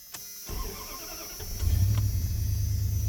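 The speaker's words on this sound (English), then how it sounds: "we are gonna fire up the old Dodge, this gas drinker that she is" An old, gas-hungry Dodge truck cranks over on a chilly morning, then its engine catches and settles into a steady, loud idle close by, with no talk over it.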